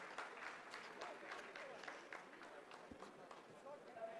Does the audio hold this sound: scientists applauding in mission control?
yes